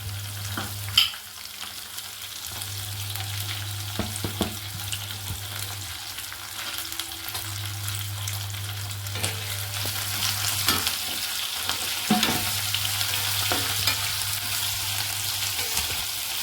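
Curry leaves fry in hot oil for tamarind pickle, a steady close sizzle with a low hum that cuts in and out, plus occasional sharp pops and spatula scrapes; no talking.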